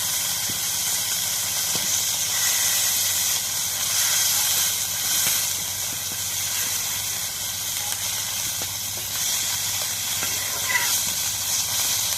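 Fish frying in a pan gives a steady, dense sizzling hiss that runs for the whole stretch at a fairly loud, even level, with faint kitchen clatter underneath.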